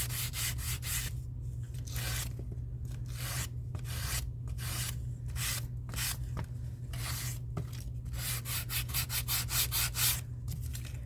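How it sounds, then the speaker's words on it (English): Rhythmic strokes of sanding on small dollar-store wood pieces, a steady rasping back-and-forth scrape repeated many times up close, with no talking. "yeah, because I'm sanding."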